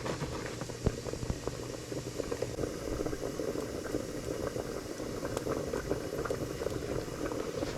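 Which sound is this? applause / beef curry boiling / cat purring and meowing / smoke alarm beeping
beef curry boiling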